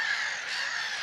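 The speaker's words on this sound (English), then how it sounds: "Black-headed gulls which drown out everything else." A dense flock of black-headed gulls calling at a coastal lagoon, a continuous loud wash of overlapping harsh cries with no break or single bird standing out.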